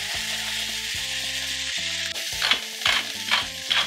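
Mushrooms and onions sautéing over high heat in a pan, a steady sizzle that grows into bursts of sharper crackling and stirring scrapes toward the end, with soft background music underneath and no talking.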